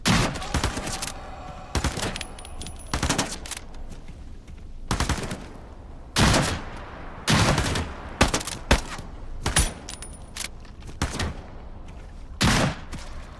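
Repeated gunshots and short bursts in the Into The Radius 2 video game, loud and close, fired irregularly over a quiet, hissy background with no talking.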